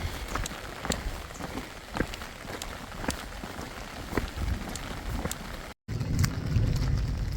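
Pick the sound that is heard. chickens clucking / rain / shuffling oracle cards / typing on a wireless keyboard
rain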